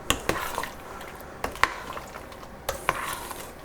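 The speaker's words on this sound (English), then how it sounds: "As I stir it a million times" A spoon clinks and scrapes against a pot while vegan Thai coconut tofu soup is stirred, giving a few sharp metallic taps spaced over a soft, faintly bubbling background with no talking.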